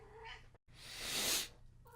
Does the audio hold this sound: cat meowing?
yes